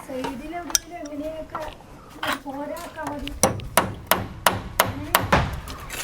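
Nails are hammered into a roof: a string of sharp metallic knocks in a steady rhythm, close and loud, following a stretch where people talk over a few scattered taps.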